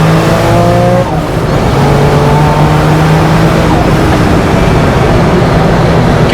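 A Gunther Werks Porsche 911 Turbo development car accelerates hard at full throttle, its engine note loud and relentless, climbing through gears with brief shift breaks and a constant roaring rush of wind and road noise.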